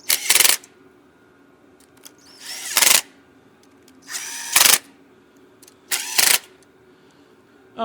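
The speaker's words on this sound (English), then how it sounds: "I don't like running them down real tight with the gun." A power tool gun runs down carburetor bolts on a 394 stroker engine build, four separate loud whirring bursts of about half a second each, spaced by quiet pauses.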